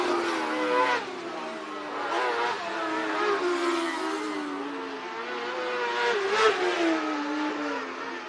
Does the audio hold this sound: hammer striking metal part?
no